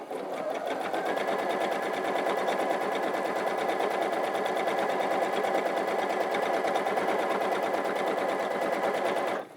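A Baby Lock Allegro sewing machine runs steadily through free-motion quilting, giving a fast, continuous stitching whir and rapid needle clatter at close range. The sound holds constant for nearly ten seconds with no voices.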